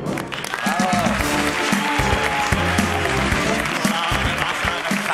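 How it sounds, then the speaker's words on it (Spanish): A studio audience applauds loudly for a volunteer at a live demonstration of HandSafe workplace accident-prevention technology, with steady clapping throughout and background music and voices mixed underneath. "Fortísimo aplauso para Javier."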